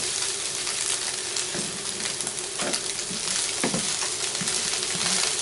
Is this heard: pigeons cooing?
no